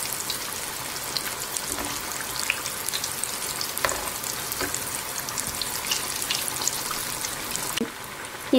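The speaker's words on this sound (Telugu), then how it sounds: "ఈ విధంగా మొత్తం అన్నీ తిప్పేసేసుకుని మనం మధ్య మధ్యలో కదిలిస్తూ ఉంటే అన్ని వైపుల చుట్టూతా కూడా మనకు చక్కగా వేగుతాయి" Purnam burelu, sweet stuffed fritters, sizzle and crackle loudly in hot oil in a steady, close frying hiss, with occasional soft stirring and turning sounds and no talk.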